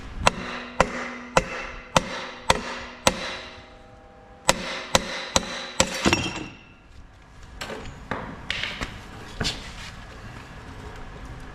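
Sharp metallic taps ring out against a CFMOTO centrifugal clutch pulley, a rhythmic run of evenly spaced strikes followed by looser, fainter knocks and clinks as the parts shift.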